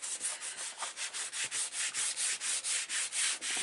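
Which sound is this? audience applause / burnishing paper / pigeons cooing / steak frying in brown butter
burnishing paper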